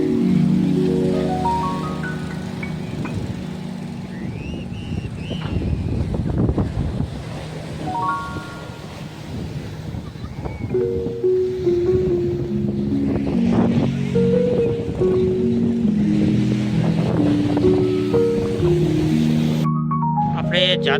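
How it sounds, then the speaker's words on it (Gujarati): Ocean surf washes steadily onto a clean beach at Madhavpur, a continuous broadband rush that runs beneath melodic music and tonal sounds for the whole stretch. "અહીંના મોજા જોઈ શકો છો."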